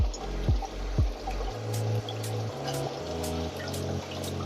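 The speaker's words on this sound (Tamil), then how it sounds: "இப்போ நம்ம அரிசியை இந்த கிரைண்டர்ல சேர்த்து அரைச்சிக்கலாம்." Soaked matta rice goes into a wet grinder, with wet sloshing and pouring noises. A few low knocks and a shifting motor-like hum follow, close and moderately loud, and nobody speaks.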